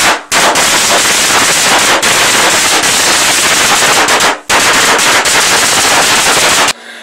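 A dense, loud crackling barrage of firecrackers going off rapidly and continuously, broken by two brief pauses.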